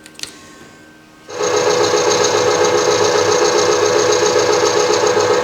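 Clarkson tool and cutter grinder taking a light 1 mm cut on a surface, a quiet start followed by a sudden steady high whine and grinding that holds loud and continuous to the end.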